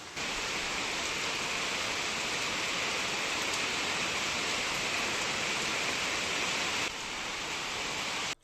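Steady, heavy rain pours down at night in a Pahadi mountain village, a dense continuous hiss with no pauses that drops slightly in level near the end before cutting off.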